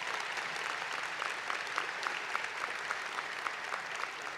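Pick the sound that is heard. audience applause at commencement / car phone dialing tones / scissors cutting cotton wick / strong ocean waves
audience applause at commencement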